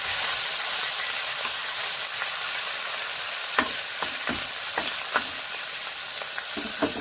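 Small mola fish fry in oil with green chili, a steady close sizzle and hiss with occasional sharp pops and stirring scrapes, and no talk.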